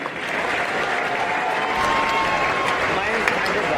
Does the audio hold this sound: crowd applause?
yes